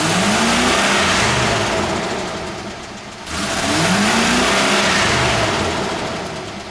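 A 1979 Chevrolet Malibu Classic coupe with a 305 small-block V8 revs hard at full throttle, the loud engine note rising and sweeping twice with a brief dip between runs, close and with no talk.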